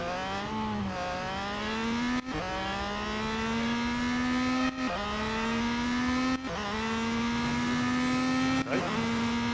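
A Peugeot 9X8 race car engine in the video game Real Racing 3 holds a loud, continuous whine. Its pitch climbs steadily through each gear and drops sharply at four quick upshifts.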